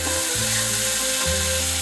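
Turmeric, salt and Kashmiri chilli powder being fried and stirred in a pan for a potato malai curry, a steady close sizzle with scraping stir sounds and no talk.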